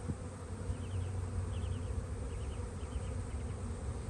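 Honeybees buzz in a continuous low drone at an open hive during a spring inspection, with faint intermittent higher whines of individual bees passing close.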